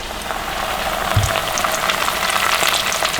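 Chunks of whole catfish hiss and crackle steadily as they fry in hot oil, a continuous close sizzle with a brief low thump as a piece drops in.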